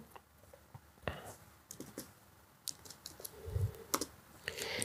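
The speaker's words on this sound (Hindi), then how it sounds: "तो मैं मैन्युअली टाइप कर रहा हूँ अपनी डेट ऑफ बर्थ" A date of birth is typed on a computer keyboard: scattered, irregular key clicks and taps sound close and crisp, with a few louder strikes and brief pauses between bursts.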